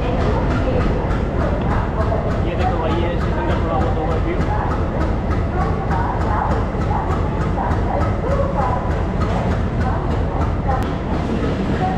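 Train running at Hyderabad railway station, a small six-platform station in India, with a steady rumble and rhythmic clatter of wagons throughout, loud and continuous.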